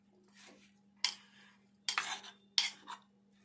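Spoon scraping and clinking against a bowl while tomato chutney is stirred with salt and mustard powder, three sharp scrapes over a steady low hum, close and fairly quiet.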